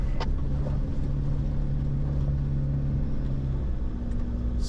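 A car climbs an alpine high-country track in Victoria, with a steady low engine rumble and drone heard from inside the vehicle throughout, and no talk.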